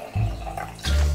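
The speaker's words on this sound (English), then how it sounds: "I'm gonna pour him a little bit of this Sunkissed Pop peach" Sunkissed Pop peach soda pours into a glass in two short liquid bursts, close and fairly loud, with a brief gap between the pours.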